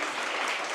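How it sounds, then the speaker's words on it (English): Steady, dense audience applause for the panelists at a Bangkok climate-finance panel discussion, a continuous wash of many hands clapping with no breaks. "please give a round of applause to them"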